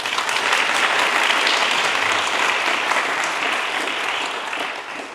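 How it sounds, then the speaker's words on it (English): Audience applause for speakers at an ACLU of Hawaii iftar dinner, a dense, even roar of clapping that stays loud and full before easing slightly toward the end. "Can we have another round of applause for our speakers"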